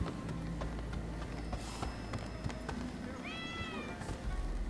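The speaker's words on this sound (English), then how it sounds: "I heard a cat just now." In the video game Rise of the Ronin, a cat gives a brief meow near the end. It rises over steady background ambience scattered with faint clicks and footsteps.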